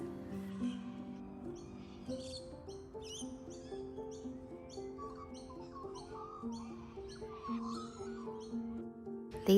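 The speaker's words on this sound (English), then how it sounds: "These birds here are galahs. They're a native Australian bird and they love to come out and look for worms after it's been raining." Galahs, native Australian birds, calling outdoors after rain, repeated short chirps and screeches scattered throughout over a soft background of music-like tones, fairly faint and at a moderate distance.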